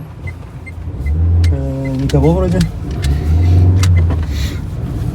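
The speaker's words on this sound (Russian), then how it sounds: "Так, блин, машина." A car drives past close by, its engine note rising and then falling away, while people talk briefly nearby.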